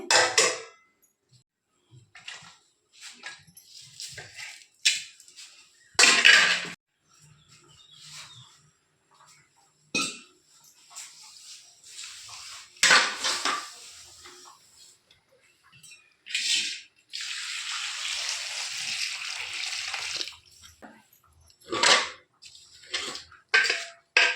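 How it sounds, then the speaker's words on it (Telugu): Onion, green chili and tomatoes being cut for tomato chutney, with irregular bursts of knife strikes and board clatter, some sharp and close, separated by quiet gaps and one longer rustling stretch. "ఫస్ట్ అయితే ఉల్లిగడ్డ, పచ్చిమిరపకాయ, టమాటా పళ్ళు అన్నీ కట్ చేసుకుంటాను చట్నీకి"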